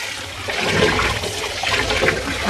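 Tap water pours steadily onto wheat grains being washed in a pot, a close, fairly loud rushing splash that swells slightly midway; no speech.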